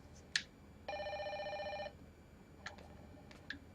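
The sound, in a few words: telephone ringing in the video game Fatal Frame 5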